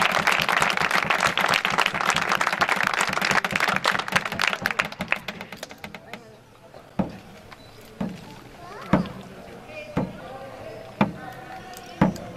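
Audience applause after an outdoor theatre performance on a dramatized town route in Zalamea de la Serena, a dense burst of clapping that fades out, followed by scattered single claps and knocks.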